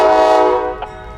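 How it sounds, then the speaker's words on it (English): A freight train locomotive sounds a loud, sustained horn-like tone up close that fades away within about a second, followed by a faint short blip. "452's new engineer slowly throttles it up until all the slack comes out of his train"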